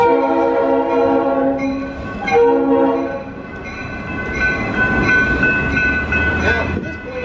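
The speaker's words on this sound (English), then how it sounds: "so that's why this train's about to move backwards" Heritage train at Roaring Camp beginning to move backwards, a loud sustained horn blast and then another, followed by rumbling and clanking of the railcars as the train gets underway.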